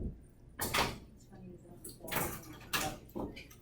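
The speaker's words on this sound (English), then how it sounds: "Let's see what's in the drawer." A drawer slides open in a room, with several scraping, rattling bursts of movement at moderate loudness and no talking over them.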